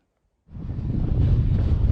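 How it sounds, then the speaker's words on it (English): Strong wind buffets the microphone on the crowded summit of Mount Moosilauke, rising abruptly from silence into a loud, steady roar that continues to the end. "It's pretty windy today and pretty crowded."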